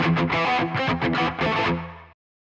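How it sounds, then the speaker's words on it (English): Electric guitar through a Kuassa Efektor distortion pedal emulation driven hard: a few loud, saturated strummed chords ringing into a sustained chord that cuts off abruptly into silence, with no voices. "Really clean, a classic distortion sound, just like it states."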